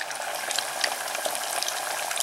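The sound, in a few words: fish deep frying in oil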